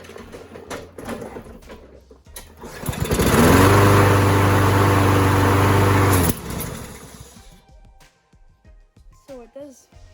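A Kohler Courage XT7 lawnmower engine, fresh from a carburetor cleaning, is pulled over and starts, running loud and steady for about three seconds before shutting off, with a person talking before and after.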